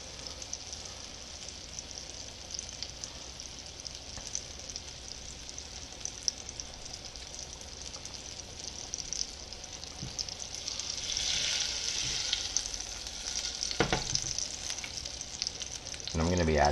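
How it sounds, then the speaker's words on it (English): Butter melts and browns in a pan with a steady, soft crackling sizzle that builds slightly toward the end, with a few louder pops and scrapes near the close. "It's going to get a nice sizzle."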